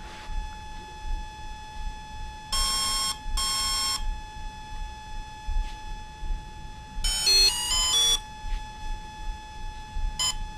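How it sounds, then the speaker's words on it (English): A Volcano 30A brushless ESC for a 450 RC helicopter sounds programming tones: a short double burst of high electronic beeps, then a busier run of shifting notes like a little tune, and one last brief beep, over a faint steady hum. "it plays a little song, and then it's going to go to 1 beep"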